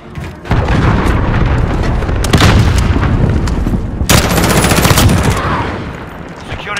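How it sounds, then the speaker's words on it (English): Loud continuous battlefield din from a Call of Duty Modern Warfare multiplayer match during a cruise missile strike, with rolling booms, gunfire bursts and a sharp blast near four seconds, filling the whole stretch. "Allied cruise missile away."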